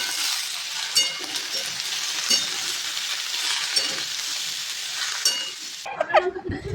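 Food frying in a pan: steady loud sizzling with scraping stirs and light clinks of a utensil, then a sudden drop to quieter, scattered clatter near the end.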